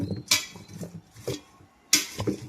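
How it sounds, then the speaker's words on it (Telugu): Chopped drumstick (munakkada) and carrot pieces with curry leaves being mixed in a pot for pappucharu: two sharp spoon clanks against the pot with softer scraping and shuffling between, close up, no talk. "ఒకసారి మొత్తం ఇలా ముక్కలన్నీ కలిపేసుకుందాము"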